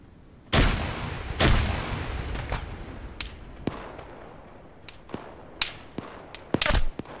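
Gunfire and a grenade explosion in combat: two sharp, heavy blasts open the clip, then scattered cracking shots of varying loudness follow, with a final cluster of close reports, all fairly faint overall.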